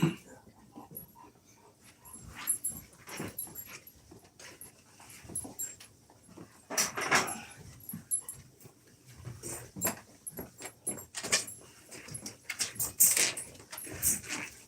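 A Golden Retriever whimpers, pants and shuffles about during cage cleaning, with soft scattered sounds and faint jangling of keys or tags at moderate distance, no talk.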